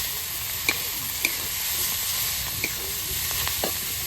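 Leafy greens stirred in a hot frying pan, a steady broad sizzle with a few soft clinks and scrapes of the stirring utensil, close and fairly loud, no voices.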